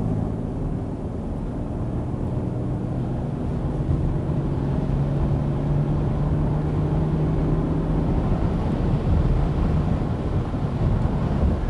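A Mercedes GLE400d Coupe diesel engine drones steadily from about 2500 rpm, a low, smooth hum that holds constant and slowly builds, with no voices over it.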